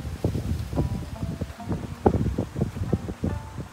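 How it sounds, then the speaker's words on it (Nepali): Wind buffets the microphone outdoors in Okinawa, a steady run of low, rumbling gusts and thumps that rise and fall over a few seconds, with no voices. "सायद हावा लाइरहेछ हावाले आवाज"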